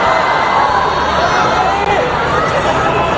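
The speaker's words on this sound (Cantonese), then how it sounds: "呢番說話即刻引起全場大笑同埋掌聲" Loud, dense crowd noise fills a concert hall at a show in Australia, a steady roar of laughter, cheering and applause from the whole audience without a break.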